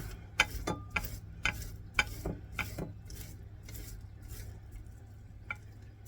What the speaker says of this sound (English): first thing we do is we take the Spam and we grate it